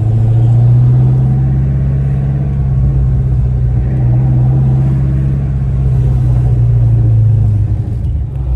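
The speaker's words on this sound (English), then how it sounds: "the car runs really well now" A Ford Mustang engine idles steadily after an O2 sensor replacement, a loud, close, continuous low rumble that holds even throughout, with no speech.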